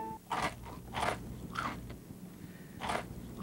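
Kix crunchy corn ball cereal being chewed, a series of crisp crunching bites in an irregular rhythm, close and clear over a low background hum, with no talking.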